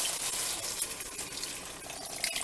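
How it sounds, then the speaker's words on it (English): Chicken broth poured into a pot while making jambalaya gives a steady, close splashing pour that runs unbroken for a couple of seconds, with no talking over it. "we're going to add in our chicken broth."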